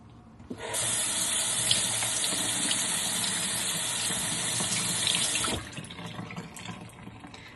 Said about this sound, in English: You don't want to keep the water just running the whole time while you're washing your brushes